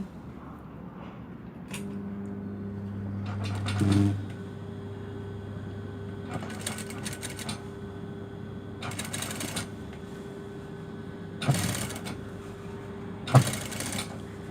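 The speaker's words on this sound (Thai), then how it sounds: "เย็บธรรมดาแบบนี้ตะเข็บริมเล็ก ๆ พับเย็บมันไม่มีอะไรมากมาย" A sewing machine stitches a narrow folded hem on trouser legs, running with a steady motor hum and several short, louder rattling bursts of stitching.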